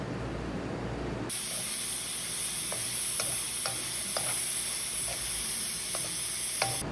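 Minced meat seasoned with salt, black pepper and tomato paste cooks in a pan for Trinidad pastelles, a steady close sizzle with scattered light ticks and stirring scrapes throughout, no talking.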